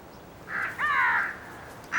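Two or three harsh crow caws ring out in quick succession, fairly close, over a quiet outdoor background in the Himalayan mountains of India as winter snows melt.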